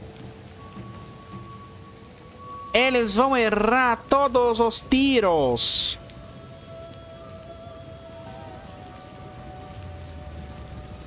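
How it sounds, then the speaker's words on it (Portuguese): Steady rain with rumbling thunder in the video game Total War: Pharaoh Dynasties, a continuous wash of downpour behind someone speaking, with a sharper burst of game effects partway through. "Essa chuva nos ajuda bastante."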